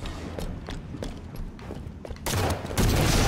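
Rapid gunfire from the video game Halo 5: Guardians in arena play, a dense crackling volley that grows louder and heavier toward the end, with no talking.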